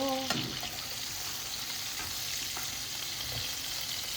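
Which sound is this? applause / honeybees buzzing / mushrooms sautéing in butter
mushrooms sautéing in butter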